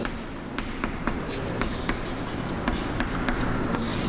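Someone writes a probability formula during a maths lesson, producing close, continuous scratchy strokes with quick taps and pauses between marks.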